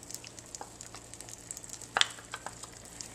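Blueberries simmering with rice syrup and arrowroot in a pan make a soft, steady sizzle with small pops and one brighter crackle midway, heard close with no voices.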